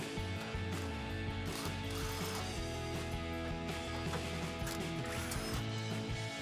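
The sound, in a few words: 10 mm socket ratchet removing exhaust hanger bolts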